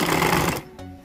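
A sewing machine stitching the neckline of a maxi dress, a loud, rapid mechanical whirr for about half a second that then stops abruptly.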